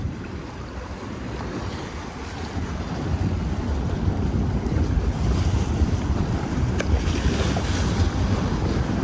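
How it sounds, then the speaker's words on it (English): Fast-moving river water rushes near Fulton Ferry Landing in Brooklyn, a steady broadband wash of water, with wind buffeting the microphone and rising slightly midway through. "The water's really moving fast."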